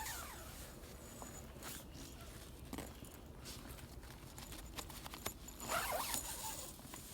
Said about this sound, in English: I'll just zip this up real quick to show you what that looks like.